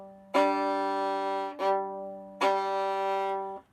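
Fiddle notes bowed from the air, landing on the string with a crisp attack. Three sustained bowed notes sound clearly and alone over a steady low drone, with no talking.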